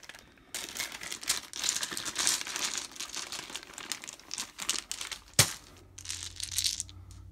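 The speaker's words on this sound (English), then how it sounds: "So with the glare in the wrapper there, let's just open some of these up." Plastic wrappers on specialty dice for the Big Trouble in Little China board game are torn open, giving several seconds of close crinkling and crackling with irregular rustles and one sharp snap near the end.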